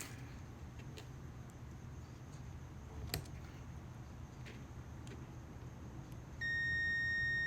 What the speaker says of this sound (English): You can hear the continuity beeping.